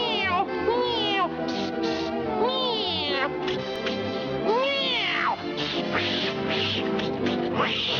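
A cartoon voice imitates a cat, giving a run of loud, close, warbling meows one after another over lively music.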